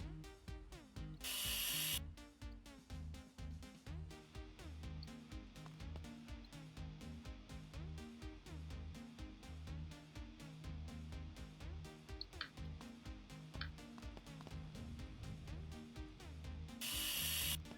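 An angle grinder's disc chops through a car floor pan near the sill, a steady harsh whine with repeated rhythmic grinding strokes and brief louder bursts at the start and end, close and continuous without speech.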